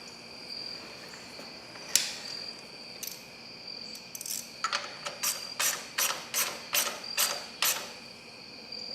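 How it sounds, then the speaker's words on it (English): Exhaust pipe clamp on a 2024 Kawasaki KLX300 being tightened with a ratcheting tool, first a few separate clicks, then a quick, steady run of sharp ratchet clicks close by, with no talking. "Tighten up that clamp."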